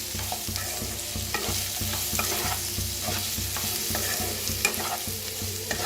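Potatoes and okra masala are stirred and roasted in a pan, with a continuous loud sizzle broken by regular scraping spatula strokes. No one speaks.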